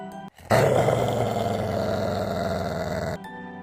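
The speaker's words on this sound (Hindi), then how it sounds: "कानों में पड़ी कुछ अजीब सी गुर्राहट" A strange, menacing growl for a horror story plays loud and close for about three seconds as a deep, rumbling, sustained snarl after a short gap, with no speech over it.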